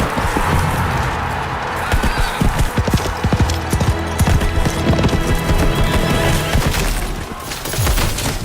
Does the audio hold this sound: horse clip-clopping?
yes